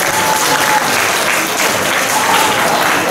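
Loud, steady applause from a school audience at a class chemistry software presentation, a continuous wash of many hands clapping throughout.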